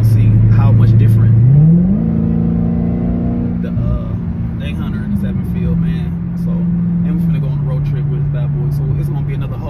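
Supercharged Dodge Challenger Hellcat Jailbreak V8 at about 717 horsepower accelerating hard, its loud engine note climbing in pitch through a gear and then holding a steady roar as it pulls away, close to the listener.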